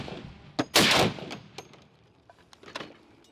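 A heavy AK-50 .50 caliber rifle, roughly 20 kilograms, fires one loud close blast, followed by lighter mechanical clicks and clatter as the action cycles, with a few small knocks trailing off.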